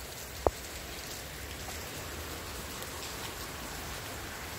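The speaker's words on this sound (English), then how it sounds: "We'll let the rain wash it in." Steady rain patters down on a garden of newly planted seedlings in a constant hiss, with one sharp tap near the start and no talking.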